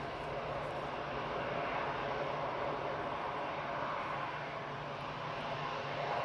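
A Ryanair Boeing 737 MAX 8 heading to Lisbon roars through its takeoff with a sustained broad jet rumble at a moderate, fairly even level.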